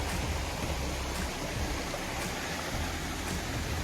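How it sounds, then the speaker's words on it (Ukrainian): A small stream flows beside a campsite on a bicycle trip toward Mukachevo in the Ukrainian countryside, giving a steady, even rush of water that holds without pause throughout, with no voices. "Вон гарний тут струмок."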